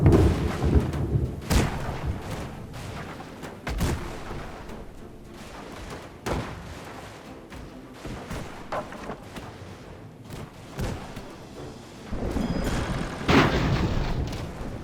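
Battle in Airships: Conquer the Skies as the player's own tank is destroyed, with a string of sharp booms and thuds spaced irregularly over a low rumble and a heavier burst of explosions near the end.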